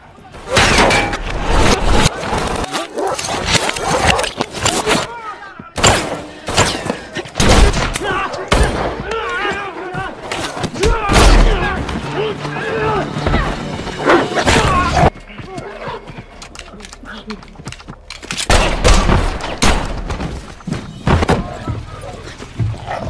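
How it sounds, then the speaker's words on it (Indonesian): Shootout from the action film John Wick: Chapter 3, with dense bursts of rapid gunfire and sharp impacts mixed into a loud cinematic soundtrack. Brief voices come through between volleys, and there is a quieter stretch midway. "mereka berdua pun terlibat baku tembak dengan anak buah si pria"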